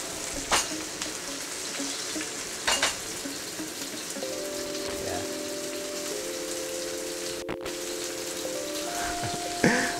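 Beef searing in hot oil in a wok for crispy beef chow fun, a steady close sizzle and frying hiss running throughout, with a few sharp clatters and a faint electronic tone partway through.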